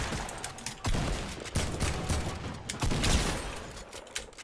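Fortnite gunfire comes in several sharp shots and short bursts at moderate loudness, spaced across a few seconds during a close fight, with no voices.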